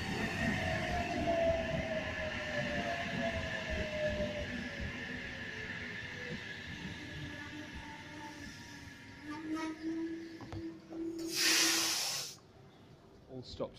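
A four-car Sydney commuter train rumbles into Wondabyne station platform, its motor tone gliding downward as it slows, followed by a loud hiss of air brakes near the end.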